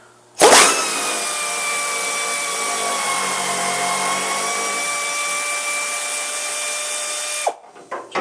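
A Craftsman 3/8 inch air ratchet spins in reverse to remove a long-seized bolt, a loud, close, steady pneumatic whine lasting about seven seconds before stopping abruptly, followed by a few clanks.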